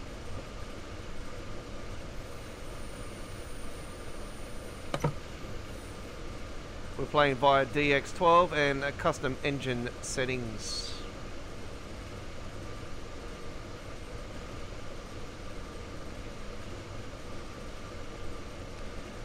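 A steady low rumble of a train running in the video game Train Sim World 4 on the S9 Wuppertal route, with someone talking over it for a few seconds midway.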